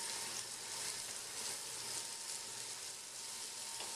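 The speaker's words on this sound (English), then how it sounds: "I really want to get this a good sear on this meat. Get a good brown on it." Chuck roast sears in a pan, giving a steady, even sizzle and hiss that holds at a moderate level for the full four seconds with no talking.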